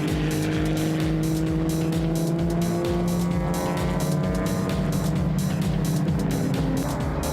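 Classic race cars, a Mini, a Dart, an MGB and an Alfa, roar together on a circuit with loud sustained engine drones and shifting pitches, close and continuous, with tire noise layered over the engines.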